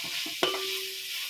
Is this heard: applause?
no